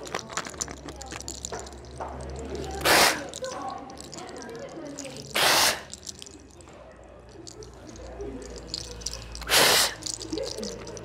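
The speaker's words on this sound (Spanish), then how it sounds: "Vamos a retirar con agua bendita." Holy water splashed and sprinkled during a limpia spiritual cleansing, heard as three loud, brief bursts of spray spaced a few seconds apart over quiet background movement.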